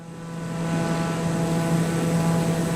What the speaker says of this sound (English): I love how I can hear 500 through the propeller noise outside of the plane.